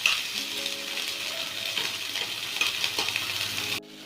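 Onion and capsicum frying in oil for chilli chapati, a steady close sizzle with faint stirring, cutting off abruptly at the end.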